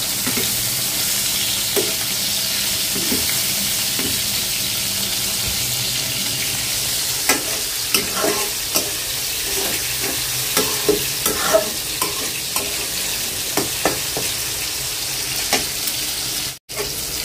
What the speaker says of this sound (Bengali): আর এখানে ইলিশ মাছের মাথাটা ভাজতে দিয়ে দিচ্ছি, আস্তে আস্তে ভাজা হোক